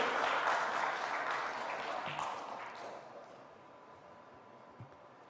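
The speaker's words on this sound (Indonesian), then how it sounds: "Itu boleh tepuk tangan, silakan." An audience at a university policy presentation applauds, a dense wash of clapping that starts fairly strong and gradually fades out over several seconds, heard from some distance.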